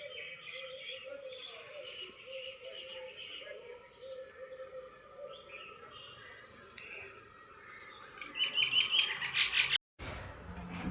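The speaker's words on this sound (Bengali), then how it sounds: "সব পাখিগুলো বাড়ি ফিরছে দেখো।" Birds chirp as they fly home at dusk, a faint scatter of tweets over a low outdoor hum, with a brief burst of sharper calls near the end.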